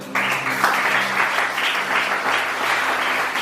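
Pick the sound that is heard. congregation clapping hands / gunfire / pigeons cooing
congregation clapping hands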